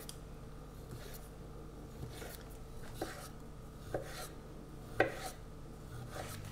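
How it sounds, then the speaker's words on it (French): Pears are sliced with a knife for an almond pear tart. A handful of soft, separate cuts land about once a second against a board, quiet and close in a calm kitchen. "Et les poires, on va les couper comme ceci."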